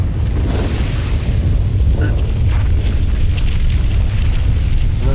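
Cannons fire in the video game Collapse, heavy booming blasts layered over a dense, continuous low rumble of battle that stays loud throughout.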